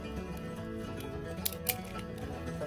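Scissors snipping off the tie on a straw bale, two quick crisp cuts close by against a faint steady background.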